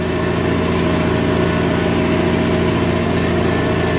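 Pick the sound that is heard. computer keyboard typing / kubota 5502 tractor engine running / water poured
kubota 5502 tractor engine running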